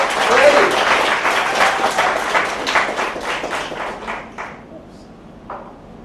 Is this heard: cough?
no